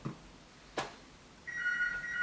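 A phone starts ringing near the end with a steady electronic tone after a couple of brief knocks, fairly faint and alone without speech.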